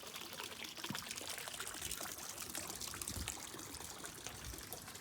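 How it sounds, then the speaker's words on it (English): Water trickles and splashes steadily in a garden feature pond behind a house, a continuous soft pouring sound that stays even throughout with no voices. "We have a feature pond."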